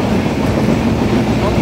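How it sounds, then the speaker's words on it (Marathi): A passenger train runs near Chiplun station on a rainy day, giving a steady, loud, continuous rolling rumble throughout with no distinct horn blast. "आणि ट्रेन हॉर्न मारत पुढे पुढे जाते."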